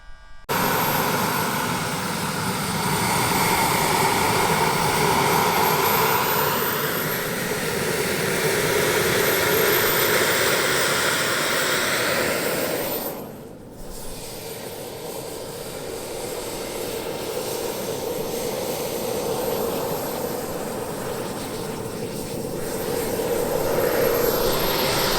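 Twin turbine engines of an RC Top Gun F-18 model jet running for a long stretch, a loud, steady whine and roar with a brief dip partway through, no speech.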